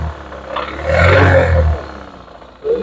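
An engine with a connecting-rod knock is revved, swelling from a rough idle into a louder roaring rise, then dropping back before a brief second surge near the end, with clattery texture under the engine tone.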